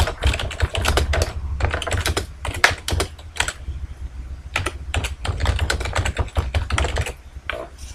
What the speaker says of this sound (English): And I'll type my text.